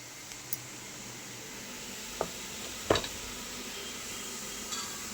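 Boti, goat tripe, goes into a pan of frying masala, producing a steady low sizzle, with a few clinks and a louder scrape of the utensil against the pan partway through.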